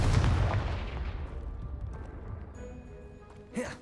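In Hogwarts Legacy, a fire spell blasts a piled-up heap with a sharp, loud boom that decays into crumbling, rattling debris, ending with a brief whooshing burst.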